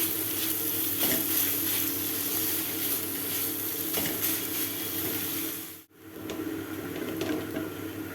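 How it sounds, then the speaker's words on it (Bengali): Soybean chunks frying in a pan over low gas, a steady broadband sizzle with occasional stirring scrapes and a brief dip near the end, with no voices. "আমি একটু ভালো করে গ্যাসটাকে লোতে রেখে ভালো করে কষিয়ে নেব।"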